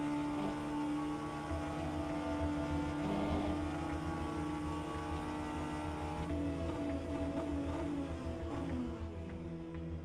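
Race car engines drone in the sim racing game rFactor 2 during an endurance race at Spa with LMP2 and GTE cars. A steady, layered engine hum holds shifting tones as revs rise and fall, at a moderate level with no talk.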